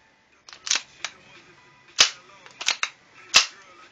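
A custom 1911 airsoft pistol fires several sharp, snappy shots close by, irregularly spaced, with faint mechanical clicks of handling between them.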